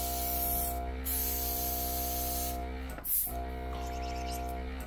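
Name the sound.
airbrush being flushed out with spray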